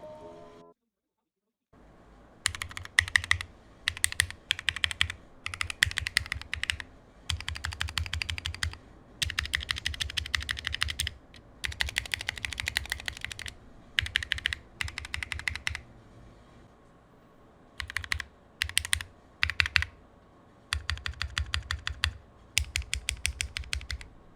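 Bursts of typing on a rebuilt acrylic hotswap RGB numpad with a knob, an Atlantis PS17, with crisp close key clacks in quick rhythmic runs separated by short pauses, no voices.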